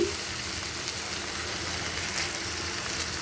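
Koi fish fry in hot oil with a dense, continuous sizzle and crackle at an even, fairly loud level, no voices.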